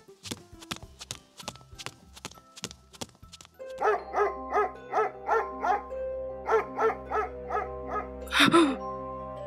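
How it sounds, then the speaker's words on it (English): Dogs tied up along a path bark in a rapid run of repeated yelps, close and fairly loud, after a few sharp knocks at the start. "Dogs!"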